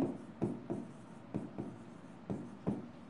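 Chalk or marker scratching across a board during an accounting lesson, a series of short rhythmic strokes with sharp onsets roughly every half second, close and alone without speech.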